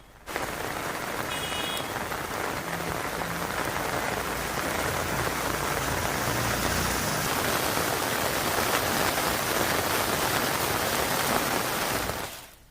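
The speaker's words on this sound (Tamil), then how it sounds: "சுற்றுவட்டார பகுதிகளில் கனமழை பெய்தது இந்த மழையால் பொதுமக்களும் விவசாயிகளும் மகிழ்ச்சி அடைந்துள்ளனர்" Heavy summer rain pours down in a Tamil Nadu district, a dense, steady hiss of drops on surfaces that continues unbroken for several seconds with no voices.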